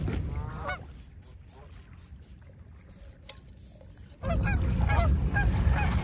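Geese honk repeatedly at close range on a small island campsite, a burst at the start and a louder, busier chorus toward the end, with a quieter stretch of water and ambient noise between.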